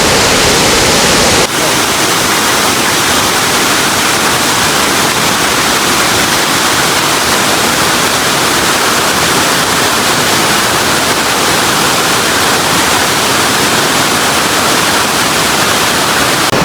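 A waterfall in China roars as a steady, loud broadband rush that fills the whole clip, with a brief shift in character near the start and no talk over it.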